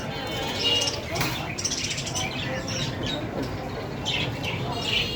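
Many caged birds chirp and tweet continuously in a bird shop, bright overlapping calls at moderate distance with a few louder squawks, while people talk nearby.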